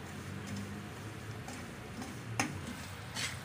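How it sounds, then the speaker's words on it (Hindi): Semolina (suji) frying in a pan for halwa, with a low continuous sizzle and occasional scraping clicks of a spoon stirring it, close and fairly quiet. "इसको 3-4 मिनट फ्राई करेंगे सूजी को।"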